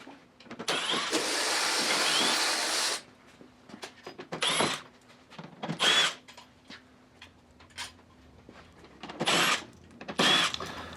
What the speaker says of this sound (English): we just took out the 10 screws that hold in the lower valance section